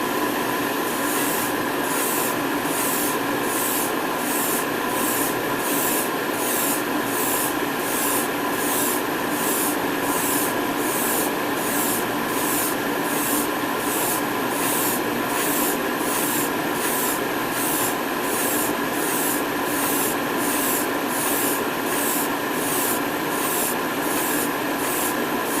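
Airbrush spraying Alclad semi-matte aluminum paint onto a test piece, a steady hiss of air and spray with a fast regular pulsing pattern, close, unbroken and without talk.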